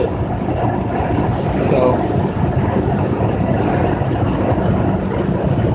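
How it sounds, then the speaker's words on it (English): Steady road rumble and rushing noise from a car cruising northbound on Interstate 35, continuous and fairly loud throughout, with a voice speaking briefly over it. "we're rolling, we're driving, we cruising northbound on I-35, Interstate I-35"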